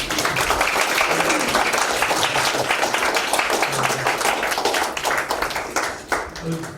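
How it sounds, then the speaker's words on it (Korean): A church congregation at a world mission forum gives missionaries a hearty round of applause. Dense, sustained clapping fills the room, with voices mixed in, then tapers near the end. "우리 선교사님들을 위해서 힘찬 격려의 박수."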